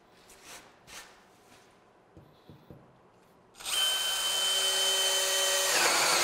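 A Milwaukee M18 FUEL 2804-20 cordless drill bores a hole, starting after a few quiet handling knocks with a sudden loud, steady high-pitched whine that holds for several seconds close by.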